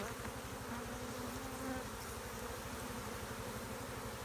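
Honey bees from an abandoned hive buzz densely and steadily right up close, a continuous swarming drone with no letup throughout.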